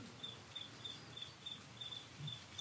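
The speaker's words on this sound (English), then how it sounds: "the sound of the crickets" Faint, regular cricket chirps repeat at an even pace, about two per second, over a quiet low background hum.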